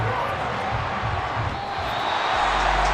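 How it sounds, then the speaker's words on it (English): Home crowd applauding in the Madden 24 football video game during a Cowboys vs Titans matchup: a steady, dense wash of clapping and crowd noise that holds at an even, fairly loud level throughout. "the home crowd applauding"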